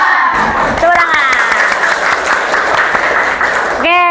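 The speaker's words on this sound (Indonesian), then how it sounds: "Tepuk tangan." Dense classroom applause from a group of junior high students, continuous clapping for about four seconds with excited shouts and cheers mixed in at the start and end.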